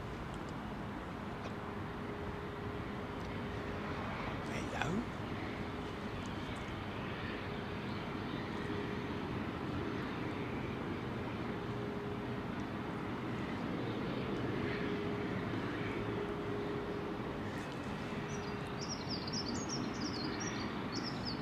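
A fixed-wing aircraft at London Heathrow Airport rumbles steadily at a distance with a constant drone, while faint bird chirps come through near the end.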